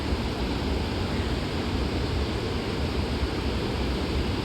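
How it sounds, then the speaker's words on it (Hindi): Water from the Ganges being filled at the riverbank in Rishikesh, heard as a steady, loud broadband rush of flowing river water that never lets up, with no speech over it. "वहाँ पर पानी भर रहे हैं"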